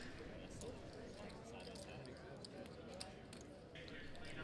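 Steady, dense background din of a busy casino floor with a party pit: crowd murmur and clatter running continuously at moderate level, with scattered brief clicks and higher bright accents, no clear speech on top.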